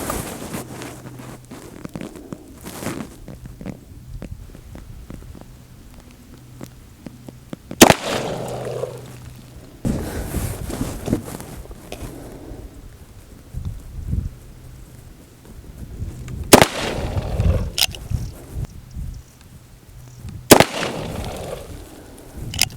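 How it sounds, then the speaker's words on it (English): Sharp, loud reports from an Uberti 45 Colt revolver firing Hornady Cowboy 255-grain lead-bullet factory loads crack out several times at an outdoor range, spaced seconds apart, each followed by a short echoing decay. "Next up is the factory loaded Hornady Cowboy loads. These are 255 grain lead bullet 45 Colt."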